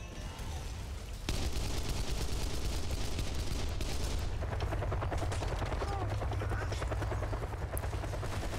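Helicopter rotor thumping steadily in Kane & Lynch: Dead Men, joined by loud rattling machine-gun fire and bursts that keep going without letup after a sudden onset.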